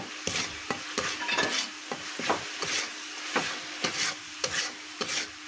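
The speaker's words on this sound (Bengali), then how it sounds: "এখন সমস্ত মশলা ভালো করে কষিয়ে নিব।" Spices for a shrimp and vegetable dish are stir-fried in a pan under a soft sizzle, with a spatula scraping and tapping in a quick, regular rhythm throughout.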